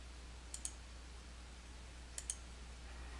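Two quick pairs of mouse clicks, sharp and close, in otherwise quiet accounting software work, the second pair coming about a second and a half after the first.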